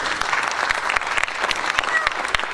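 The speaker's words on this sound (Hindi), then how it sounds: "एक बार इनके लिए तालियां बजाइए।" Audience applause for singers at a stage show in Jabalpur, a dense, steady wash of many hands clapping, fairly close and continuous with faint crowd murmur underneath.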